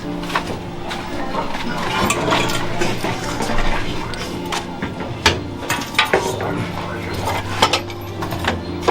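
A metal knife clatters and scrapes against a pan in a busy run of clinks and knocks, close by, with faint background voices, in Trench Town, Kingston, Jamaica.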